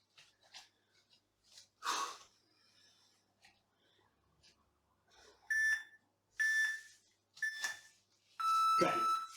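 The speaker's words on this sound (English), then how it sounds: "when we hear the countdown beeps" Countdown beeps from a kettlebell workout timer, three or four short, evenly spaced electronic tones over the last few seconds, with breathing and faint movement sounds in between.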